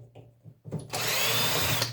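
Power drill whirring steadily and loudly for about a second as it backs screws out of scrap equipment to free a transformer, preceded by quieter handling knocks.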